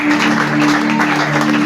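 Congregation clapping and acclaiming God during a church worship service, a dense steady wash of applause and cheering voices with a sustained tone running underneath, loud and close throughout.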